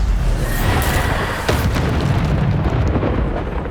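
Bombarda spells in Hogwarts Legacy go off as a dense rumble of booming blasts, loud and close, with a sharp burst near the middle and the roar easing toward the end, no voices.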